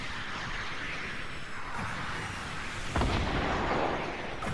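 Gunfire in a Fortnite match: a continuous wash of distant shots and battle noise, with one sharper, louder report near the end.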